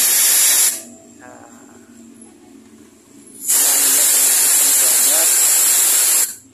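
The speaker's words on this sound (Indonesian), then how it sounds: "Kita semprot memakai kompresor yang kenceng." A strong air compressor blasts a loud, steady hiss of air onto a motorcycle valve to check for leaks, two long bursts separated by a quieter pause.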